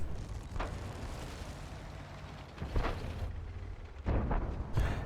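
Tank guns firing in a tank video game on the Tundra map, several muffled booming shots spaced a second or two apart over a steady engine rumble, fairly faint and distant.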